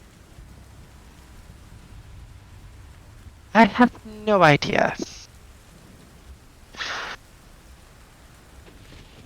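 Steady rain falling as a storm sound effect during a tabletop role-play session, a soft constant patter with a few louder bursts as players talk over it.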